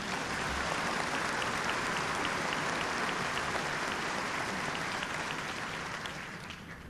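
Applause at the 1998 Wadsworth High School commencement ceremony, a dense sustained round of clapping from a large audience filling the room, holding steady before tapering off slightly at the end, with no voices over it.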